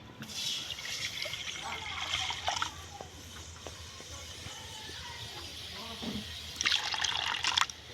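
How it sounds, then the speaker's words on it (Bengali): Water is poured into a heated wok on a stove, a splashing, trickling flow with a few sharper splashes, heard close by with a voice speaking over it. "এবার আমি জল দিয়ে দিচ্ছি"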